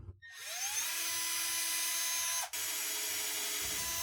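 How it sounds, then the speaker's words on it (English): A power drill with a 1/8-inch bit spins up with a rising whine, runs steadily, and briefly dips as the bit bites in, close and continuous. "Now we're going to drill out for our idler bracket."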